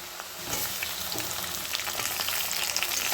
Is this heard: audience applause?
no